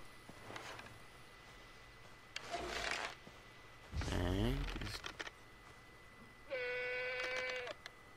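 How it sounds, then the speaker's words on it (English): A goat bleating in the video game Far Cry 3, with two drawn-out wavering bleats standing out over quiet game ambience and a few faint earlier sounds. "That's a goat."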